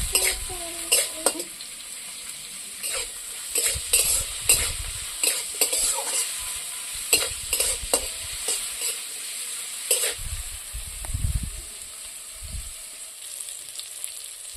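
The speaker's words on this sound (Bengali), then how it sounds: "তেল গরম হয়ে গেছে, এখন দিয়ে দিচ্ছি, প্রথমে দিয়ে দিচ্ছি করলা।" Bitter gourd frying in hot oil, with a steady sizzle and repeated scraping and stirring of a spatula against the pan, up close; a few louder clatters and a bubbling burst near the end, with no talking.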